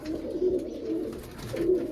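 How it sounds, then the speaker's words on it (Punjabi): Pigeons of breeding stock coo in soft, repeated low rolling calls, a few phrases spaced across the moment, close by and fairly quiet, with no voices. "ਵਿਖਾਉਣੇ ਆ ਤੁਹਾਨੂੰ ਅੱਜ ਵੱਡੇ ਕਬੂਤਰ ਬੱਚਿਆਂ ਵਾਲੇ"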